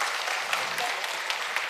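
Church congregation claps together in a steady, moderately loud round of applause during a Sunday service, with a few sharper claps standing out.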